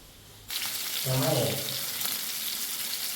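Fish fries in hot oil in a pan, a loud, dense sizzle that starts abruptly and then holds steady, with a burst of stirring or turning partway through.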